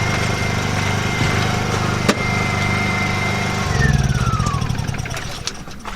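A generator runs steadily at close range while a van bed is being built, a continuous engine drone with a brief knock partway through and a slight rise and roughening of the hum near the end.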